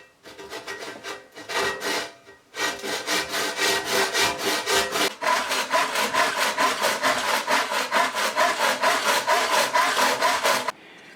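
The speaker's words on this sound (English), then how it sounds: "that was surprisingly easy to cut with a handsaw actually" A handsaw cuts through a workpiece with steady back-and-forth strokes. A brief pause comes early, then a long, loud, rhythmic run of rasping strokes close by, with no talk.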